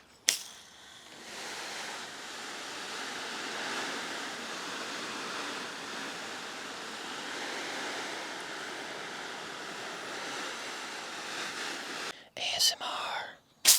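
A shower head spraying water onto Dyneema fabric to imitate a heavy rainstorm, a steady, hissing wash of spray lasting many seconds before cutting off with a few abrupt knocks and rustles.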